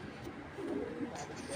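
A blue checker racing pigeon, a male from a pigeon club, coos softly and low at close range for a short moment over a steady background hum.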